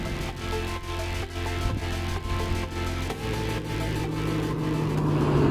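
A 2016 Mazda MX-5 Miata Club Sport engine hums steadily while driving, a low, constant drone with road noise that grows slightly louder toward the end, no voices.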